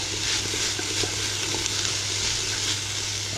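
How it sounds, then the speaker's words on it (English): Steady, close sizzle of chilli frying in a hot pan as it is stirred, with faint scraping and bubbling over a constant low hum and no voices. "Give it a good old stir."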